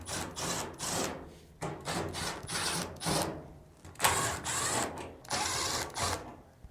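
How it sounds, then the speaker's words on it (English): Screws being driven out of the front drum assembly of a Samsung dryer, a close series of short rhythmic whirring bursts with brief pauses between, like a powered screwdriver running in repeated spurts. "remove the 4 screws on the front drum assembly"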